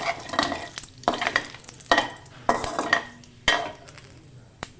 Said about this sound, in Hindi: अब सबसे पहले इसके अंदर ऑयल में मैं कड़ी पत्ता और सफ़ेद तिल डालूँगी